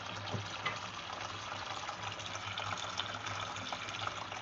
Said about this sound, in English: So yeah, just let me know if this is too loud, the water running.